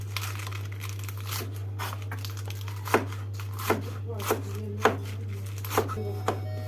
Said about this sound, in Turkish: domatesleri doğruyoruz